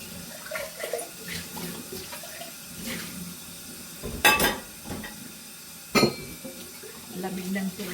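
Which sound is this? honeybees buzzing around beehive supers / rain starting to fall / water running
water running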